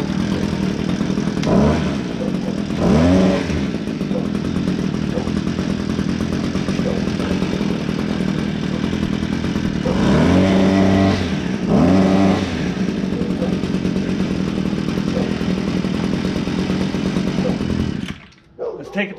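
A brand-new Wild Badger 52cc gas string trimmer engine runs loud and close, idling roughly with several throttle revs that rise and fall, then cuts out near the end.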